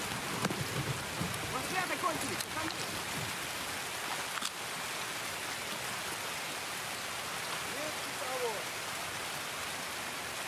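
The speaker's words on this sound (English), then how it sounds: "Barely hear what I'm doing because of the rain." Rain in the video game Escape from Tarkov pours as a dense, steady hiss that fills the whole clip evenly, loud enough to mask smaller sounds, with a few faint tonal blips underneath.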